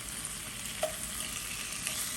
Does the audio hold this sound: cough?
no